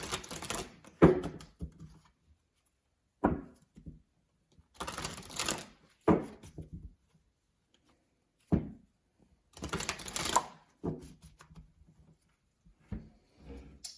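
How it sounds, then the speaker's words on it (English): Oracle cards are shuffled in several quick riffling bursts separated by pauses, with soft taps and knocks as the deck is squared. "I'm going to shuffle the cards."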